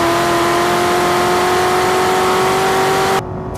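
A Corvette ZR1 at full throttle on the final corner of a track lap, its engine holding a loud, steady high-pitched drone that cuts off abruptly near the end.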